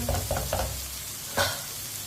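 Tomatoes fry in a pan with a soft sizzle as a spoon stirs them in a few quick scraping strokes, followed by a single louder stir near the end; no voices.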